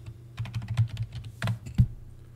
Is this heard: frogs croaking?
no